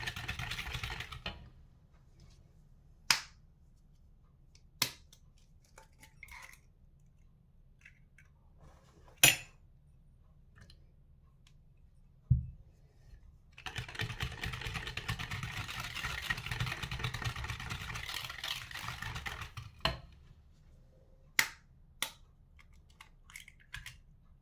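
Chocolate mi-cuit batter stirred in a bowl after an egg is added, giving sharp utensil clicks against the bowl and a steady stretch of scraping, mixing noise in the middle, close and moderately loud with no talk.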